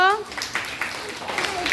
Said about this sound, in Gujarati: સરસ તાળીઓ પાડો